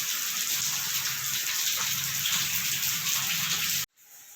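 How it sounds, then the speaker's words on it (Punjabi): Heavy, continuous rain falls at a home, a dense and steady hiss that holds at an even level for almost four seconds and then cuts off abruptly. "ਮੀਂਹ ਤਾਂ ਹਟਦਾ ਨਹੀਂਗਾ"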